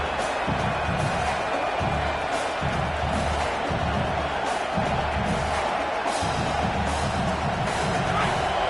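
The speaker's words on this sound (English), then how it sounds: "Listen to this crowd just shaking the girders of this place" A large football stadium crowd roars in a dense, continuous wash of noise, with muffled voices and rumbles underneath.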